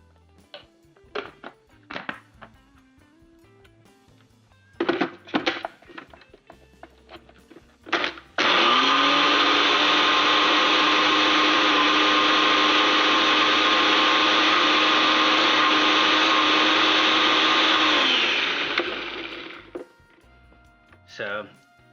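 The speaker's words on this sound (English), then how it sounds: "we're going to just puree the whole thing up" A blender purees a filling of crawfish, shrimp, spinach and garlic for Cajun shotgun shells, whirring loudly and steadily for about ten seconds after some brief knocks and handling noises, then winding down.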